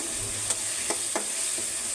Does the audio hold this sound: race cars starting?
no